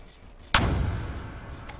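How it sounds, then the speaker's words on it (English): A large ship's 500mm cannon in the From The Depths naval combat game fires one loud, sharp boom after a quiet lead-in. The blast decays into rumbling debris, and a faint crack follows near the end. "let's see if it manages to get moving before my cannons start firing"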